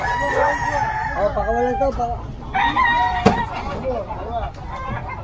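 Chickens and a rooster at a roadside chicken farm on a sidewalk, loud nearby crowing and clucking from several birds, heard with someone talking over them.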